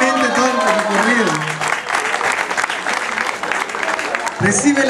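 A crowd applauds at a medal ceremony, the clapping dense and sustained throughout, with a voice speaking over it near the start and again at the end.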